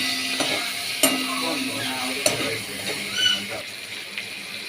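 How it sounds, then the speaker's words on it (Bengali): Cauliflower and potatoes frying in a pan, a continuous close sizzle and hiss broken by a few sharp stirring clacks and scrapes of a utensil. "তাই ফুলকপি আলু ভাজছি"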